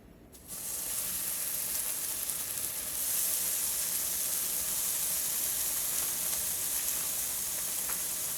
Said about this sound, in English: We're going to add bacon to pan.